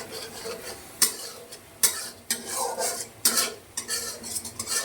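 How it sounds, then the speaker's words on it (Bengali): A metal spoon stirs turmeric powder into spices frying in a cooking pot, scraping and clinking against the metal in irregular strokes, with a soft sizzle running underneath. "তো হলুদটা দিয়ে আমি সুন্দর মতো নেড়ে চেড়ে"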